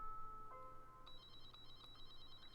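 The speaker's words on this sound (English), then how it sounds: "Right, the phone call. Ring-a-ling-a-ling-a-ling." A phone rings in a game as a faint electronic ringtone, with steady high repeating tones and no one talking.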